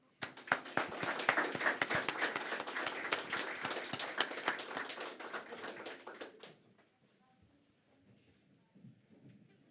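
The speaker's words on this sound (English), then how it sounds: "I would like all of you to give them a big applause" Audience applauding a panel at a conference on green shipping and fishery, dense clapping for about six seconds that then stops abruptly, leaving quiet room noise.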